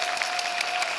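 Steady, dense audience applause at an outdoor stage greeting during a film festival in Busan, a continuous wash of clapping from a crowd with no voices on top.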